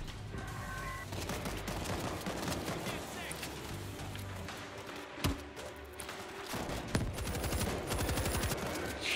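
Rapid bursts of automatic gunfire from the World War Z video game rattle on almost without pause, with occasional heavier thuds mixed in. A voice speaks now and then over the shooting.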